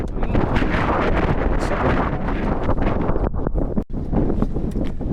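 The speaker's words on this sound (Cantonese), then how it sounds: "啲風聲" Strong wind blasts across a high mountain trail on Dongling Mountain near Beijing at about 2,000 metres, roaring loudly against the microphone in continuous gusts with a brief dip near the end.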